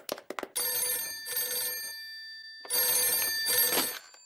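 In a French cartoon, an old-style telephone bell rings in two loud, bright, metallic bursts separated by a short pause, preceded by a few quick clicks, close and without talk.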